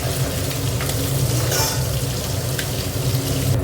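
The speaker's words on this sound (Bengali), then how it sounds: "এই মাছগুলো ভেজে নেব।" Tangra fish fry in a pan with a steady, loud, close sizzle that holds without a break, a rushing, watery hiss with no voices over it.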